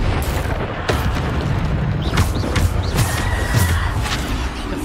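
Descendo spell impacts in Hogwarts Legacy land as deep booming thuds with bursts of crackling debris, several hits in a few seconds over a dense rumbling game soundscape.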